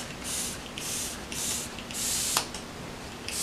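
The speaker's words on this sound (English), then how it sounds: "Almost done with this Derma-E Blue Light Shield Spray." Derma-E Blue Light Shield Spray misted onto a face: four short, soft pump-spray hisses in a steady rhythm, close and quiet, followed by a faint click and a little handling noise.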